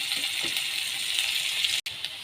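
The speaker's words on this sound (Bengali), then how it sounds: "এবার পেঁয়াজগুলো ভেজে নিচ্ছি" Onions frying in a pan of hot oil, a continuous close sizzle with faint crackles and a few soft clinks, briefly cut by a short gap near the end, with no voices.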